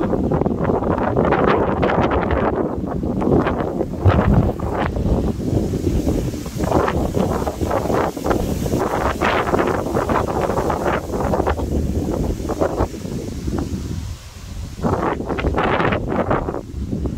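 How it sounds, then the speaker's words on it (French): Sustained strong foehn storm wind roars and buffets the microphone, with rustling forest foliage, easing briefly before gusting again. "le vent qui arrive"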